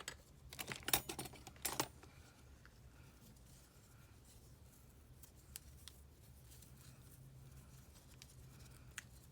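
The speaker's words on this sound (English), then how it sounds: "I could do that, and I could snip this end." A few quick scissor snips cut the end of a paper pillow box, a short cluster of crisp close clicks followed by quiet paper handling and faint scattered taps.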